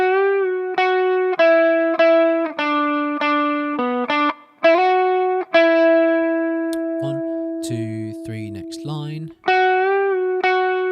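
Distorted electric guitar plays the chorus, sustained chords in steady phrases with a brief bright scratchy passage midway, while a voice quietly counts along.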